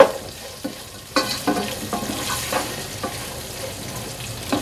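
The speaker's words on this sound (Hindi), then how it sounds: "अब इन सब चीज़ों को हम फ्राई करेंगे" Onions, ginger and garlic frying in a pan with a soft sizzle, broken by several scraping stirs of a utensil, close and fairly quiet with no talk.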